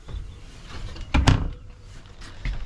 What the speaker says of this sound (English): These drawers pull out sideways.